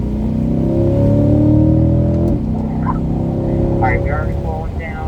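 A C8 Corvette engine revs up on a racetrack, its pitch climbing steadily before dropping sharply on the upshift to fourth gear and settling into a loud, droning run, with a voice talking over it.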